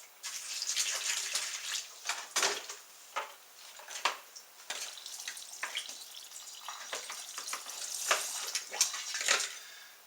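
Distilled water is poured into a funnel, splashing and trickling unevenly in bursts with small knocks and clinks, fairly faint and close.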